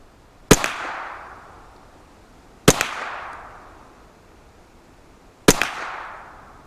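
Three loud, sharp gunshots from a Kriss Vector fired at a 25-metre range, evenly spaced about two to three seconds apart, each with a crisp crack and a brief decaying echo.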